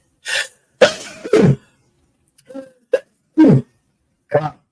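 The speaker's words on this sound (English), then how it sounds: "First time I've ever sneezed on my podcast." A few short, sharp sneeze-like bursts of breath with brief pauses between them. Close and loud against silence.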